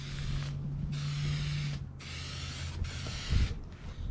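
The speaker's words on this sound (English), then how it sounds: "this is stuff I'm going to be painting it with. It's a Raptor truck bed liner" Raptor truck bed liner sprays from an aerosol can onto a Bass Tracker boat in three close, loud hissing bursts separated by short pauses, with faint rattling underneath.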